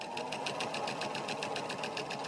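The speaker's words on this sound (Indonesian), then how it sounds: "Suara mesin jahit yang berdenyut dengan ritme yang teratur." A sewing machine runs in a steady, rhythmic pulse, its evenly spaced mechanical beats repeating close and fairly loud throughout, with no voices.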